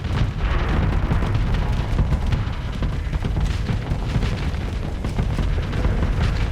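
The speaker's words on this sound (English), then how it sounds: "I did not see those bombs coming in." Bomb explosions in the space combat game Starsector, a continuous loud rumbling barrage of deep booms that fills the whole stretch without pause.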